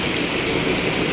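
Heavy rain pours down in a dense, unbroken hiss, loud and close with no other sounds standing out.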